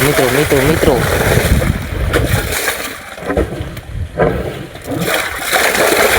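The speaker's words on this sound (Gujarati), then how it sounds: "જો પાણી આવી રહ્યું છે મિત્રો, કુંડી પણ ઉભરાઈ જાય એવો" Water gushing from the pump of a newly drilled borewell on a farm, filling and overflowing a tank: a loud, churning splash with wind buffeting the microphone and someone talking over it.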